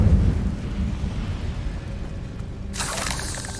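Incendio fire spell cast in Hogwarts Legacy, a deep rumbling whoosh of flame with low booming roar, followed by a bright hissing burst near the end.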